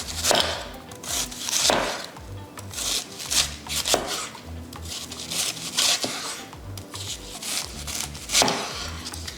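A knife chopping an onion on a board, rapid rhythmic scraping cuts in bursts with sharper strokes every couple of seconds, close and fairly loud, no talking.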